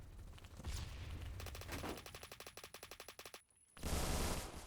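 Rapid bursts of AK-12 automatic rifle fire in the Phantom Forces shooter game, a long stuttering string of close, loud shots with brief pauses, followed by a short silence and a dense final burst.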